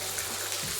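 Water running steadily from a faucet with a single rotating lever in an American motel bathroom, a continuous close hiss and rush without voices.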